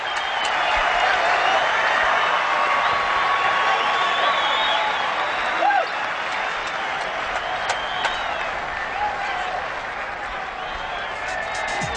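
Cricket crowd at a South Africa versus Australia Test match breaks into sustained applause and cheering after Paul Adams bowls the batsman, a broad, loud roar holding steady throughout with scattered whoops.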